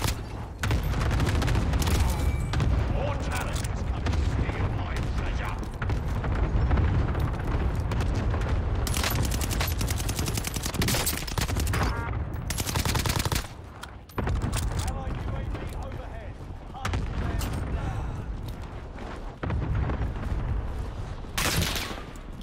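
Call of Duty Warzone match with an STG assault rifle loadout, dense bursts of gunfire and booming impacts rolling almost nonstop, loud and close, with a player talking over the action.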